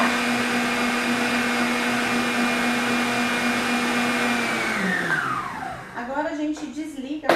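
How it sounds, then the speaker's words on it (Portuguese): An electric stand mixer whirs steadily through cake batter with a constant motor hum, then winds down as it is switched off, and a voice begins talking at the end. "Agora a gente desliga a batedeira."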